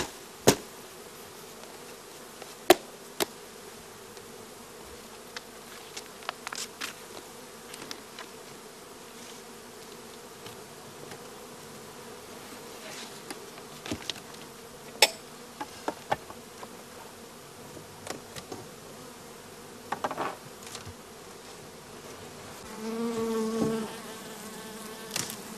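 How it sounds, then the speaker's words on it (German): Honeybees buzz in a sustained, dense hum as they are shaken into an empty hive box, with scattered knocks and clunks of the wooden box breaking through. "werden die Bienen in die Leerzarge geschüttet"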